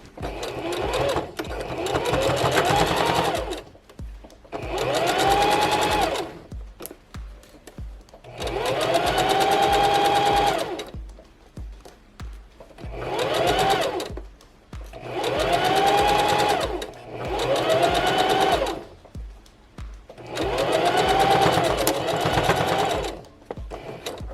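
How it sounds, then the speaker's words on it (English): Sewing machine stitching along the edge of a fabric casing, six rhythmic bursts of fast whirring, each a couple of seconds long with brief pauses between, close and clear with no talk. "you're going to stitch right on the edge here"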